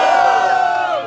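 A crowd at a Brazilian rap battle cheers loudly and steadily, a close, sustained roar of voices lasting about a second.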